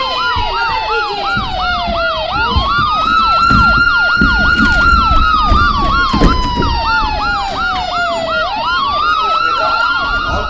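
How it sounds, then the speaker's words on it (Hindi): Ambulance siren from a Rotary ambulance service, loud and close, with overlapping wailing and rising-falling tones that sweep continuously through the whole stretch. No voices are heard over it. "जल्दी से एम्बुलेंस बुलाइए"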